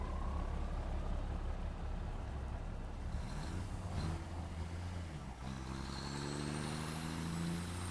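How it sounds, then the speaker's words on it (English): Truck in the video game Satisfactory, a steady engine drone with low rumble throughout, a brief air-brake-like hiss near the middle, and rising tonal whines as it accelerates, heard alone without talk. "Now this is a truck."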